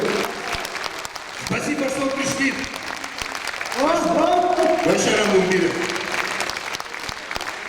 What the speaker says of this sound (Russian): В рок-исполнении ваши аплодисменты!